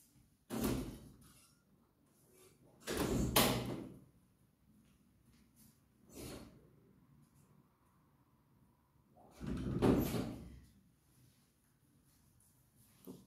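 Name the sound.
door being opened to let the cat in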